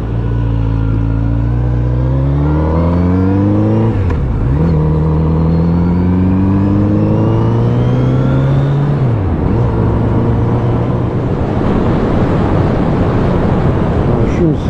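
A Kawasaki Z900RS motorcycle engine revs under throttle while riding, loud and close, its pitch climbing steadily, dropping with gear changes and climbing again, with a continuous rushing roar underneath.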